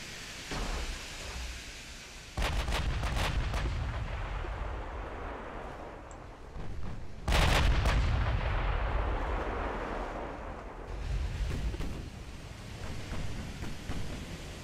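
Naval artillery fire in Ultimate Admiral: Dreadnoughts, with heavy booming salvos at about 2 and 7 seconds over a constant rumbling battle din, and smaller distant blasts in between.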